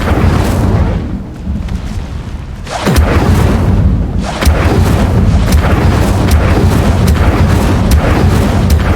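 Hogwarts Legacy's Incendio fire spell erupts in loud, heavy bursts with a deep booming roar, followed by sharp crackling blasts that continue densely over a rumbling background.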